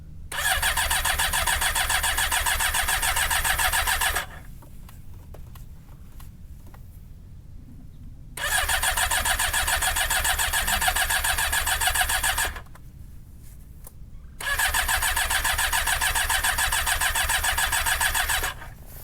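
Cold motorcycle engine in 12-degree weather cranking hard on a lithium-ion restart battery, three long loud bursts of steady cranking separated by short pauses, without catching, and no voices.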